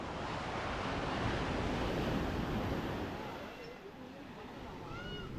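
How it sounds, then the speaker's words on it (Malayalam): Ocean surf rolls continuously at Samudra Beach in Thiruvananthapuram. The waves wash loud and steady with gusty wind noise, easing slightly before building again. "അതിൻ്റെ ബാക്ക് സൈഡാണ് വരുന്നത് ഈ ബീച്ച് എന്ന് പറയുന്നത്, സമുദ്ര ബീച്ച്"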